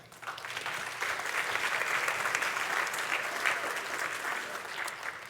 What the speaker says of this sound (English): let's have a round of applause for all of you